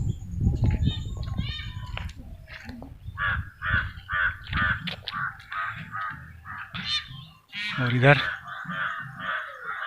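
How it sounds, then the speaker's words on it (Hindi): A crow caws several times outdoors in a sunny village, the harsh calls mixed with people talking and children's voices nearby. "कौवा काँव काँव कर रहा है"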